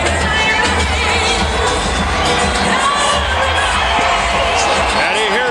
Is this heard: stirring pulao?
no